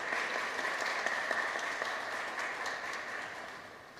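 Audience applause at an electoral training event in Oaxaca, Mexico, a continuous, fairly faint wash of many hands clapping, heard from a distance and slowly fading, with no voices over it.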